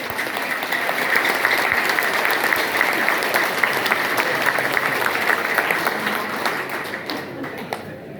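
Audience at a devotional Hindi discourse on Lord Ram bursts into loud, sustained applause, dense clapping from a large crowd that continues for several seconds before tapering off.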